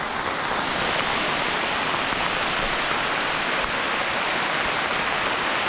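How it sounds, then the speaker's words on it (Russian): Hail falls hard and steadily through a forest on a hike to the Achipse waterfalls near Krasnaya Polyana, Sochi, a dense, loud, continuous patter with no talking. "Вот так вот летит на нас град."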